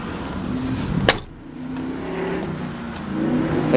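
A Toyota 4Runner idles steadily nearby, a low continuous engine hum with a brief sharp click partway through.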